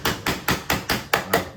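A small hammer taps around the edge of a cowling, striking six or seven times at a steady, even pace, each blow sharp, close and alone.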